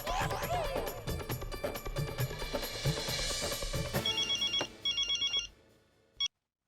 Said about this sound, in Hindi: मैं अभी उन्हें फोन करके बुला लेती हूँ